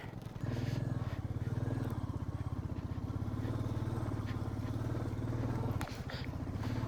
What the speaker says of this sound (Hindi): अभी पत्थर से उछली थी बाइक।